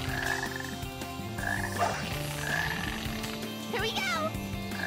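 Several croaks from a frog in the Sonic Heroes video game ring out over dense, ongoing game music, clear and fairly close.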